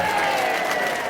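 Audience applause before a staged comedic matchup, Wreck-It Ralph versus Two-Face, a brief steady wash of many hands clapping at once, fairly loud and even throughout.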